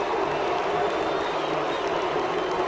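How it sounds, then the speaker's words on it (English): Stadium crowd at a 2006 Boise State vs Idaho college football game, a broad sustained roar mixing boos from Vandal fans with shushing from Bronco fans, heard from a distance as a steady wash of noise. "Half of it is booing from Vandal fans, and the other half is shooing from Bronco fans."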